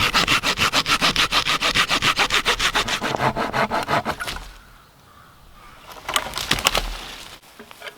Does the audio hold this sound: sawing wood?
yes